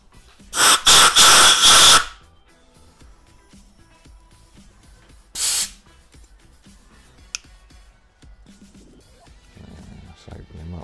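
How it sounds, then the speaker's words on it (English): Spray bottle squirting onto bike parts, a burst of close hissing sprays packed into about a second and a half, then a single shorter spray a few seconds later amid quiet handling noise. "Give them a squirt."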